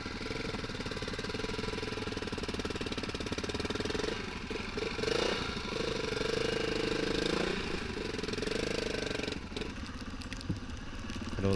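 Dirt bike engine on the Dakar 2016 route labouring up a steep hill, a rough, knocking mid-pitched drone that revs and surges unevenly before dropping back, fairly close and continuous.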